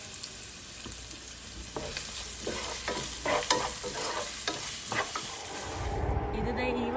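A medium onion and three green chilies fry with salt in a pan, giving a continuous close sizzle broken by repeated scraping stirs, with no talk.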